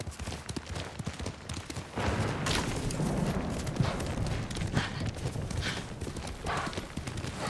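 Horse hooves clip-clop steadily in Ghost of Tsushima gameplay set in feudal Japan, a dense continuous trotting rhythm, close and fairly loud over a busy game soundscape.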